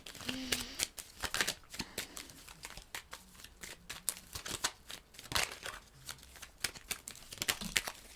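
Tarot cards are shuffled in quick, repeated papery riffles and snaps close to the ear, continuing through the whole stretch with soft, faint talk underneath.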